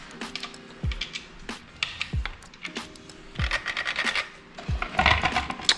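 Two Phillips screws being unscrewed from the headlight of a Yamaha Bolt motorcycle, with close scraping and ratcheting screwdriver rasps, a few low thuds and clicks, in short uneven bursts.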